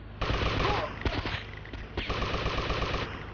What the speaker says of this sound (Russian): Ну я, правда, не особо экономно стреляю сейчас